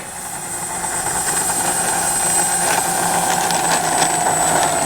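A radio-controlled B-25J warbird model airplane powers up for takeoff, its engine whine steadily building in loudness from moderate to strong and holding a continuous high-pitched tone.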